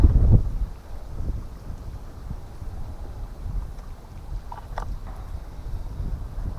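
Gusty wind rushes and buffets the microphone at a quiet outdoor campsite tucked behind a cemetery, a strong low rumble at the start settling into steady, moderate wind noise with a few faint higher tones.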